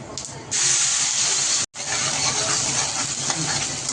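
Cumin and mustard seeds hit hot oil in a pan for a spicy Maharashtrian brinjal bhaji, giving a loud, close, continuous sizzle that cuts out for a split second and then hisses on.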